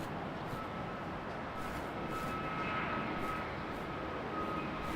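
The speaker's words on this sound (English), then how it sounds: "Jetstar rocketing out to Denpasar." A Jetstar jet airliner taking off from Brisbane Airport, bound for Denpasar: a steady, broad engine roar with a faint whine, heard from a distance and sustained throughout with no voices.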